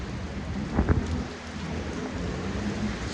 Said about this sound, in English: rain is still pouring like crazy, bro